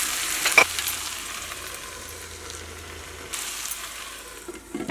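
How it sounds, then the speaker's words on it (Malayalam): Chicken and potato pieces sizzle gently in a pan while being stirred now and then, with a few louder scrapes and clinks near the start and again toward the end, alone with no voices. "ഇടയ്ക്കൊന്ന് ഇളക്കിയിട്ട് കൊടുക്കാം."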